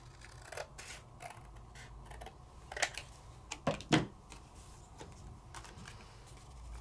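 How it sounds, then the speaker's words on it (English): Scissors snip a small white piece of paper in quiet, scattered cuts, a few sharper snips clustered near the middle. "I'm going to cut my little white piece down just a wee bit."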